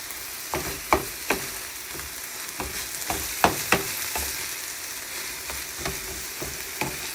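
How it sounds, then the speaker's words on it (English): Ground beef browning in a pan for tacos, a steady loud sizzle with repeated sharp scrapes and taps of a utensil stirring the meat, close and without talking. "Wait till ground beef is brown."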